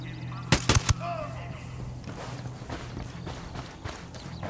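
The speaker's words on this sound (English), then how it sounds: "Damn, these guys got mortars." Mortar rounds thumping in Ghost Recon Wildlands: three or four sharp, loud blasts close together near the start, then a scatter of fainter distant thuds and crackles over a rumbling game background.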